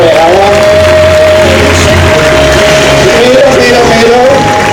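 A school graduation audience applauds continuously, dense clapping with some crowd noise and a faint tonal hum running underneath, steady and fairly loud from start to finish.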